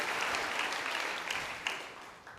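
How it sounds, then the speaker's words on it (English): Audience at a 2022 UCP leadership debate in Edmonton applauds steadily, a dense wash of clapping that slowly fades, with a few faint shouts inside it. "give them all a round of applause"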